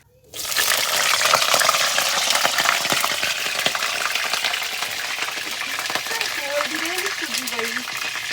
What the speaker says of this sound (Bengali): এই যে ফুলকপি আলুটা সুন্দরভাবে ভেজে নিব প্রথমে